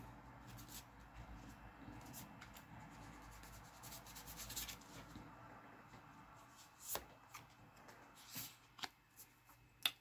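Tarot cards are shuffled and drawn by hand at close range, a soft steady riffling and rubbing that gives way to sharper snaps and slaps of single cards toward the end, with no voice.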